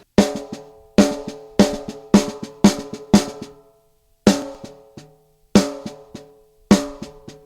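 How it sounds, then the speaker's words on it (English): Snare drum played alone in a repeating pattern of loud, crisp accented hits with softer ghost notes tucked between them, close and dry. "it consists of hits on the snare with some ghost notes"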